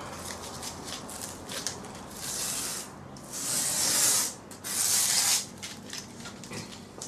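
Tape is peeled off beside a carbon fibre spar after excess bead has been scraped away. Several close, hissing ripping strips sound one after another, each about a second long, with no talking.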